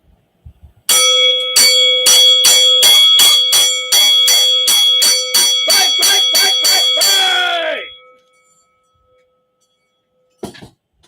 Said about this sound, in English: I'll sound it off with a fight bell